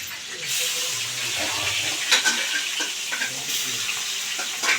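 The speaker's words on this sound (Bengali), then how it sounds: "এবার পেটি পেটি ভাজা হচ্ছে" Cut pieces of pointed gourd and potato fry in hot oil with a steady, close sizzle and crackle, occasional spatters rising above the continuous hiss.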